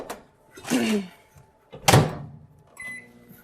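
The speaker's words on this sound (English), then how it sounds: "And I'm going to microwave it." A microwave oven softening unsalted butter: door thunks open and shut, then a faint hum with short beeps, close and clear in a quiet kitchen.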